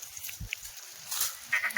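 Kathiawari goats bleat at a busy goat market, a couple of short nasal calls over crowd murmur and background noise.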